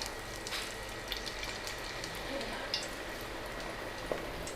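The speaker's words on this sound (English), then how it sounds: "Fry our pinwheel potatoes." Pinwheel potatoes frying in hot oil, a soft steady sizzle with scattered faint pops and crackles, quiet and continuous with no talking.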